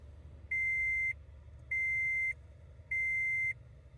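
Bluetooth receiver pairing inside a truck, three evenly spaced steady electronic beeps, each about half a second long, clear and loud over a low idling engine hum.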